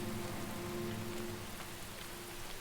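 Rain falling in the video game Enshrouded, a steady, dense patter of drops on surfaces with a soft low hum underneath, continuous and even, with no speech.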